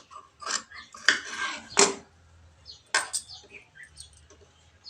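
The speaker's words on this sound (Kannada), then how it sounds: "ಎಕ್ಸ್ಟ್ರಾ ಕ್ಲಾತ್ ಕಟ್ ಮಾಡ್ತಾಯಿದ್ದೀನಿ" Scissors cutting extra blouse cloth, a few sharp snips and crisp fabric rustles at irregular intervals, close by with quiet gaps between.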